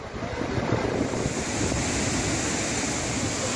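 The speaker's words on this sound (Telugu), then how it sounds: "హైదరాబాద్ లో జలపాతం ఇలా ఉరకలు వేయడం నిజంగా" A waterfall in Hyderabad, swollen after heavy rains, gushes with a dense, loud, unbroken roar of rushing water that stays at full strength throughout, mixed with wind buffeting the microphone.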